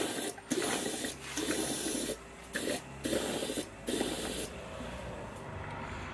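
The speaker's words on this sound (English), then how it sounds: "I've got an air hose on the bottom, radiator hose." Compressed air from an air hose blows water through the lower radiator hose and engine block of a Honda ST1100 motorcycle, giving faint, close bursts of hissing spray in short irregular pulses, then a steadier hiss.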